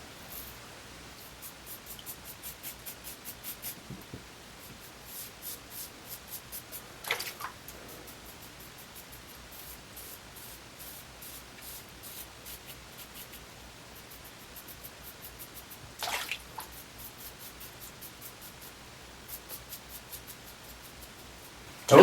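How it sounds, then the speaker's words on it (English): Safety razor with light pressure dragging over skin lathered with Proraso shaving soap, making soft rhythmic scraping strokes in repeated short runs, close and quiet, with a couple of louder rinses or taps between passes. "I use very light pressure. Just enough to get the blade in contact with my skin."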